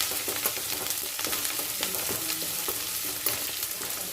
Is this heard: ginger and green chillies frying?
yes